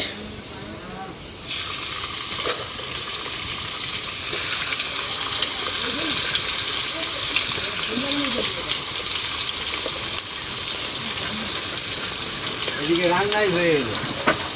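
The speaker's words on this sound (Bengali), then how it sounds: "এবার এই তেলের উপর দেবো পেঁয়াজ" Raw onions hit hot oil in a pan for a chicken curry, a loud sizzle erupting suddenly after a quieter moment and holding as a steady, close hiss while someone talks over it.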